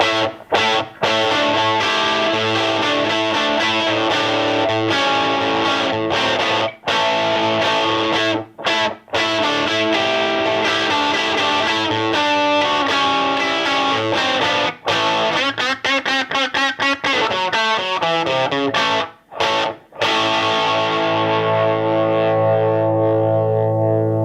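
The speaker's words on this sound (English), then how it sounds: "this is a pretty bright yet crunchy sounding amp" A 1964 Gretsch 5-watt guitar amp built by Valco gives a bright, crunchy, distorted electric guitar tone, with chords and runs ringing loudly and continuously before fading out.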